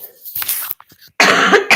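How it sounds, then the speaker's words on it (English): A loud, close cough bursts out, a short harsh hack followed by a stronger, longer cough after a brief pause. "Excuse me, I'm gonna cough."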